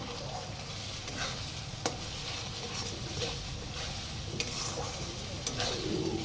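Chicken masala is stir-fried with garam masala, a steady sizzle under intermittent stirring and sharp utensil taps against the pan, moderately close, with no voices.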